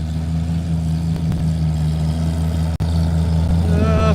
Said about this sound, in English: No, there's a case tractor.